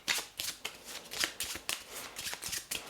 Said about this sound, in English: they'll give their deck a bit of a shuffle